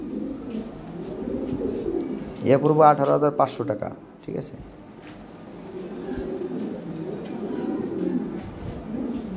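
A pair of pigeons coos at low volume beneath near-continuous conversational speech, the soft throaty calls hard to separate from the voices.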